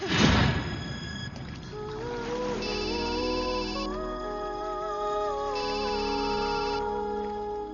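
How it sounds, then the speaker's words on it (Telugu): A mobile phone ringtone plays a bright, steady electronic melody with stepping tones, loud and close, running without pause for several seconds in a Telugu comedy film scene. "నువ్వే ఫోన్ చేసావు"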